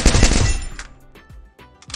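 A new weapon fires in the Free Fire video game: a rapid automatic burst of loud shots for about three quarters of a second, then several sparse single cracks spaced apart.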